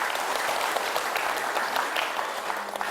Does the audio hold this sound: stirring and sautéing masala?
no